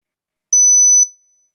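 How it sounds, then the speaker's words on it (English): A single loud, steady electronic beep cuts into an online talk, holding a high pure tone for about half a second before stopping abruptly into silence. "there was a big beep and then I didn't hear anything"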